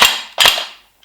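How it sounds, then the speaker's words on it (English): A Taidi Toys LK58 FAL gel blaster fires two sharp, loud, close shots about a third of a second apart, each with a metallic clang from the reciprocating ejection port and a short fading ring after. "So you're getting that reciprocating ejection port sound."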